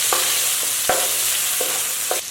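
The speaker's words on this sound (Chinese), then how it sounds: "锅内留底油，下焯过水的胡萝卜丁和香菇丁，翻炒均匀" Blanched diced carrot and shiitake mushroom stir-fry in a wok with a little oil, a constant close sizzle broken by a few sharp spatula scrapes and tosses.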